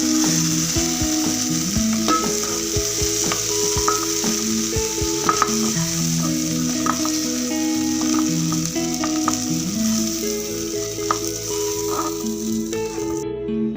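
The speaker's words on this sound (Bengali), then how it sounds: "মাছগুলো ভাজা হয়ে গেছে" Fish frying in mustard oil in a kadai, with a steady close sizzle and occasional clinks of a spatula stirring and turning the pieces.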